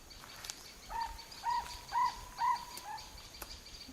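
Birds calling outdoors over dry farmland, a series of about five repeated clear whistled notes at an even rhythm, moderately distant and fairly faint over a quiet rural background.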